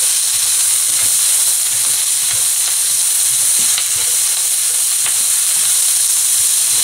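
Squid seasoned with salt and pepper fries loudly in a pan while being stirred, a dense continuous sizzle and hiss with faint scraping taps throughout.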